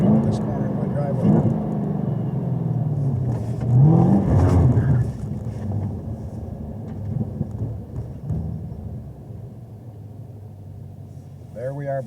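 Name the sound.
sports car engine driving into driveway corner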